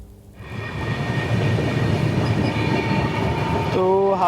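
The Gitanjali SF Express, bound from Mumbai to Howrah, rumbles steadily along the rails between Gondia and Howrah. The broad, rolling wheel noise swells after a quiet start, and a tonal, horn-like sound rises at the end.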